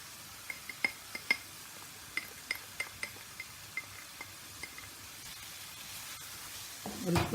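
Fajita sandwich filling sautéing in a pan with cumin, black pepper and salt: quiet clinks and taps of a utensil against the pan over a faint low sizzle, ending in a brief louder scrape.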